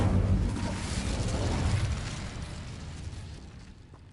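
An Incendio fire spell cast in Hogwarts Legacy unleashes a loud, rumbling burst of flame that swells at the start and then slowly fades over a few seconds, with no voices over it.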